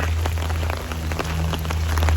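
Steady rain pours down on a surface outdoors, a dense, even patter with scattered louder drops over a constant low hum, with no voices.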